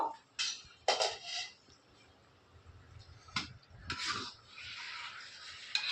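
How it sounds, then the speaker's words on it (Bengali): A cooking-pot lid lifts off a pot of cabbage with fish heads after twenty minutes of cooking, giving a few sharp metallic clinks and scrapes spread across the moment, close and fairly quiet, with no talking. "এবারে আমি ঢাকনাটা খুলবো।"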